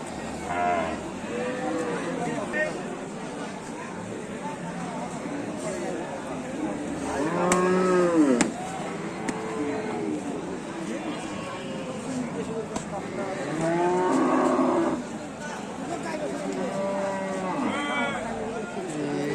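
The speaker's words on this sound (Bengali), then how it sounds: "শাহিওয়াল গরু এটা" Sahiwal cattle mooing several times over a busy cattle market crowd, with people talking throughout and louder lowing calls standing out midway.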